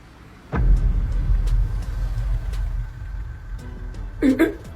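A car fitted with strobe lights starts up with a sudden low rumble that settles into a steady engine drone nearby, followed by a brief higher tonal burst near the end.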